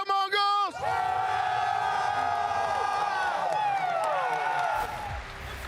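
A large crowd at an esports grand final for Valorant between Vitality and MongolZ cheers and chants loudly and continuously, with a brief lull near the end before the roar resumes.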